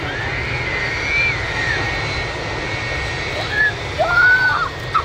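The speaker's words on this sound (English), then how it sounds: "Iceland Air 757 will make the rapid exit taxiway" An Icelandair Boeing 757 jet taxis off the runway onto a rapid exit taxiway at Manchester Airport, its engines giving a steady, moderately distant whine and rumble with a few faint higher tonal sweeps.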